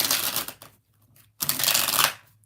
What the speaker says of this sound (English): All right, 6 shuffles for Antoinette.